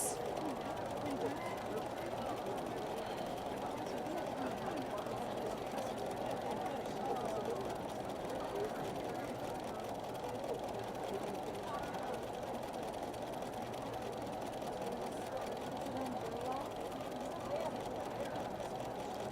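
A sewing machine runs in a steady, continuous whir, stitching thread drawings of a house with a roof and chimney. The motor hum stays even and moderately close throughout, with no pauses.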